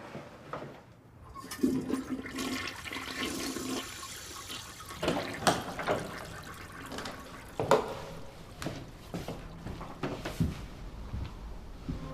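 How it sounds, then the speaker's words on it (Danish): A close toilet flushes with a strong rushing surge of water that settles into steady refilling and trickling, alone without talk, with a possible fault in the water flow. "Der er noget galt med vandpingen på toilettet."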